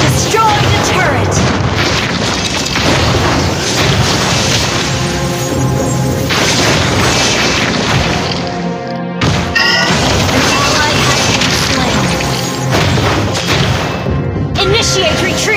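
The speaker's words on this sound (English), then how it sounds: "Your team destroyed the turret!" Crashing explosions and impacts from a Mobile Legends match as a turret is destroyed, loud dense booms and smashes filling the mix with a brief drop near the middle, game voices and effects layered throughout.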